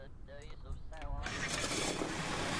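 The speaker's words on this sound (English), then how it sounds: "that's loud with 4 engines" Four rocket engines roar in Kerbal Space Program, a harsh sustained blast that surges in after a brief voice and fills the rest of the moment loudly.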